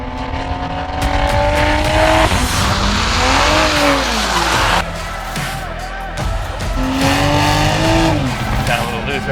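A 2021 Toyota Supra slides loose on a canyon road, its engine revving up and down in sweeping pitches with bursts of tire squeal, under a voice talking.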